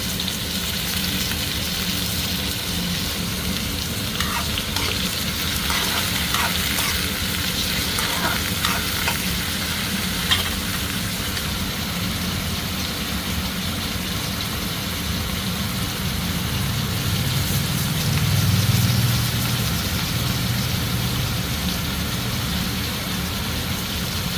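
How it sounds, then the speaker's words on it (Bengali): Chopped eggplant fries with turmeric and salt in a pan, a steady close sizzle with occasional scraping stirs over a constant background hum. "ভালো করে বেগুনটা ভেজে আগে তুলে নেব"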